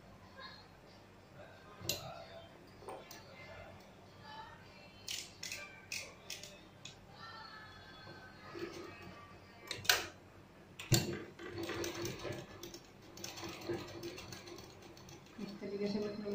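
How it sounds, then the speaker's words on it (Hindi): A sewing machine stitches a sleeve for a blouse, with bursts of rapid, close mechanical ticking and clacking that start and stop between quieter handling noises. "अब इसको यहाँ से सिलाई स्टार्ट करेंगे।"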